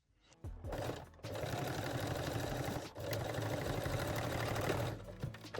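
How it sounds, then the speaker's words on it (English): A sewing machine stitching forward and backward to secure a strap on a beginner nursing bralette, running steadily and close for several seconds with a brief pause near the middle, no talking. "I'm sewing just forward and backward."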